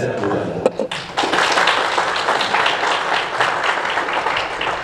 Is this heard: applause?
yes